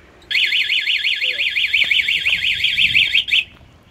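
A loud electronic anti-theft alarm on a 1990 collector scooter warbles rapidly and continuously for about three seconds, then cuts off abruptly, with faint background noise underneath.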